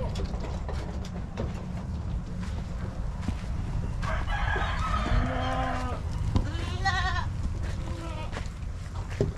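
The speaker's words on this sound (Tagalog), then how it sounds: "Mga kambing, oh." Goats bleating on a farm in California where goats and sheep are kept together, several harmonic calls rising over a steady outdoor background, with a rooster-like crow and livestock noises in the mix.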